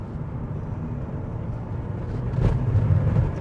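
Porsche 944 Turbo engine pulling in third gear over bumpy road, a steady low engine drone heard from inside the car that swells louder toward the end.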